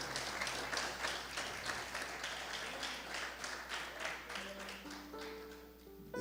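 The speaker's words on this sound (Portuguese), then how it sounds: "Você pode aplaudir ao Senhor por isso?" A church congregation claps together through the whole stretch, a steady dense patter at moderate distance, with sustained music tones rising underneath toward the end.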